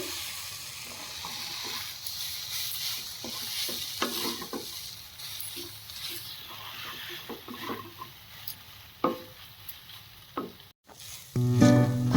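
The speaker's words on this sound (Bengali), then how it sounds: "কম আঁচে এবার এটাকে খুব ভালোভাবে নেড়ে নিতে হবে।" Maggi noodles are stirred and fried in a pan over low heat, giving a quiet steady sizzle with soft scraping stirs, louder clatter near the end.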